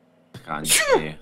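A single loud, wet human sneeze, close and sharp, with a short spoken remark just before it.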